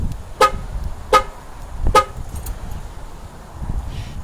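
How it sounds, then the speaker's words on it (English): Horn chirps from a 2008-2012 Jeep Grand Cherokee triggered by remote start from the factory key fob, outdoors: three short, evenly spaced toots over low background rumble, then quiet. "I'm going to trigger remote starting from the OEM fob."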